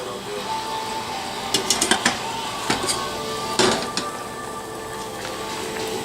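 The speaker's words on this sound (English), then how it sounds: "He will turn the heat off and cover and remove the pot from the eye." Metal clinks and scrapes of a lid and pot of black-eyed peas being covered and removed from a stove, a few sharp clanks over a steady background hum.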